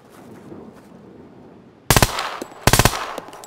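Two short, loud bursts of automatic gunfire in the survival video game SCUM at night, each a rapid cluster of shots about a second apart, over a quiet low background.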